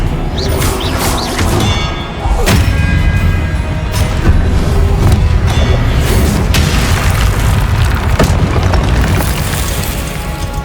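Spell combat in the Hogwarts Legacy video game, with an Expelliarmus blast. Loud booming impacts and sharp bursts land repeatedly over a dense, continuous rumble of effects.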